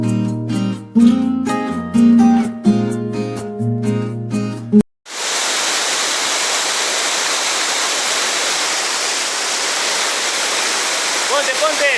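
A waterfall at a hiking spot in Bucay, Ecuador, roars loud and continuous up close. It follows a stretch of music that ends abruptly.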